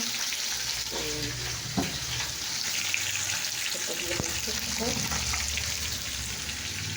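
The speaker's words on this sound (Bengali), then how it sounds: "তো দেখো এখানে পেঁয়াজ লঙ্কা কুচনো তেল হয়ে দিয়ে দিলাম, দেখতে পাচ্ছ।" Chopped onion and green chilli fry in hot oil with a steady, close sizzle and crackle, with a few light stirring clinks over it.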